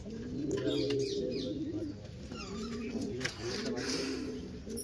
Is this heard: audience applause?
no